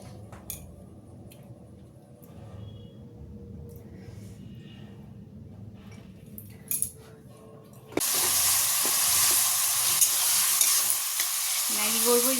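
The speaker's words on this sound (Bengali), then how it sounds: "আর এই যেমনটা বললাম ফ্রাই ম্যাগি করবো, সেই জন্য সবজিগুলো ভাজছি।" Vegetables fry in a pan for fried Maggi noodles: a quiet, low sizzle with occasional stirring clinks, then a sudden loud, hissing sizzle takes over for the last third.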